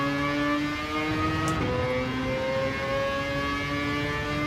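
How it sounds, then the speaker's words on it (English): A loud car engine in the racing video game Gran Turismo 7 holds a steady, humming drone at constant pitch throughout, with one brief high hiss midway. "Yeah, the engine is loud"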